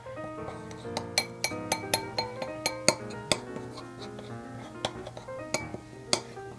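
Metal spoon mixing icing sugar in a bowl: a steady run of bright clinks and scrapes against the bowl, roughly two per second, close and moderately loud, with no talking.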